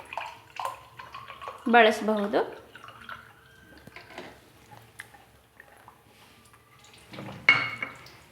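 Water runs from a Kangen water ionizer machine switched on for its E-cleaning cycle, a soft flowing and dripping wash heard mostly beneath a person speaking, with a louder splashy burst near the end.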